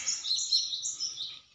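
Java sparrows (gelatik) giving a continuous run of high, bright chirps and tweets, close and fairly loud, with no pause across the short stretch.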